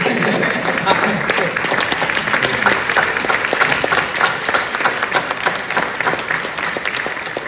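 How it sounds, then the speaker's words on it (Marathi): Theatre audience at a Marathi play performance in Portland, America, applauding in a dense, sustained burst of many hands clapping, loud and close, with voices faintly mixed in. "शैलेशसाठी सुद्धा जोरदार टाळ्या वाजूया"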